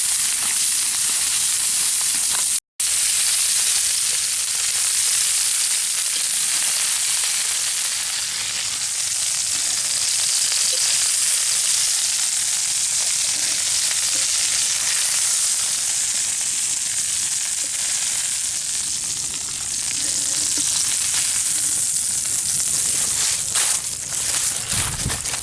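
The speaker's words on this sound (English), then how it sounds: "We'll let them cook on that side for just a minute" Chicken thighs sizzle loudly over hot coals in a continuous, dense frying hiss that holds steady throughout, with a brief dropout near the start.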